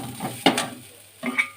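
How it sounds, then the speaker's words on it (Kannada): Grated coconut being roasted in a pan, with soft scraping stirs and light sizzling, a few distinct spatula strokes heard up close without any talk. "ಈಗ ತೆಂಗಿನಕಾಯಿ ಹುರ್ಕೊಳ್ಳೋಣ."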